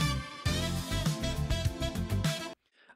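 An AI-generated song plays from its pickup measure, full harmonic music with rhythmic bass hits and melodic layers that stops abruptly, leaving near silence.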